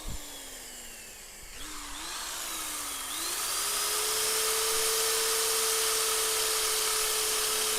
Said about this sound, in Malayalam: എന്തായാലും നമുക്കിനി ഡ്രിൽ ചെയ്യാം